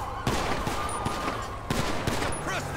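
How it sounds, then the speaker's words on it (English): Rapid bursts of gunfire during a police shootout in GTA 5, with sharp repeated shots and a fusillade running throughout the short clip, fairly loud and dense. "I hear shots going off."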